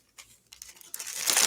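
A plastic bag crinkles and rustles in short bursts while a wad of contents is shaken and mixed inside, growing denser and louder toward the end, with no talking.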